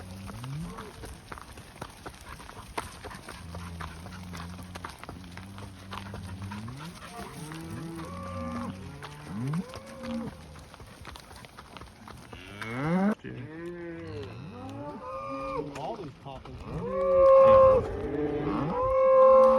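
Repeated loud moos from a calf, several drawn-out bawls in sequence, close by, with quieter farm noise between calls.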